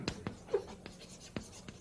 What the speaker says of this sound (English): let me write that